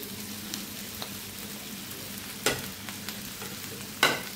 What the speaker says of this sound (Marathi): हे सगळं व्यवस्थित मिक्स करून घ्यायचं आहे